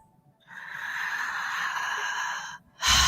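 A slow, deep inhale during a guided breath work session, a steady airy draw lasting about two seconds, close and soft, followed by a sudden louder rush of breath.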